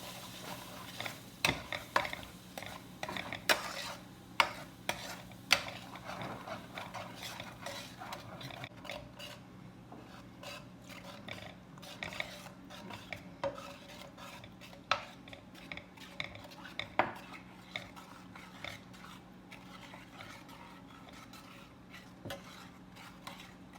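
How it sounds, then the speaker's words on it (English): Whisking flour, soup and bouillon together in a pot for a chicken pot pie, giving a steady scraping, clinking stir with repeated sharp metal taps against the pot, close and fairly loud with no talking. "I'm going to use my whisk to make sure that all that flour is smoothed out."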